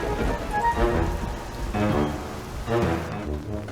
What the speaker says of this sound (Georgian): წვიმაც იწყება.